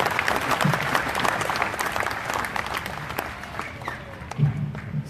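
A crowd at a Paytren Vaaganza 2017 event applauding Pak Haji Andi, dense clapping from a large audience held at a steady level, with a few voices faintly mixed in.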